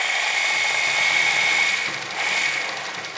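A sewing machine runs steadily as it stitches along the folded edge of salwar fabric, a continuous close mechanical whir with a slight dip and pickup partway through, and no talking.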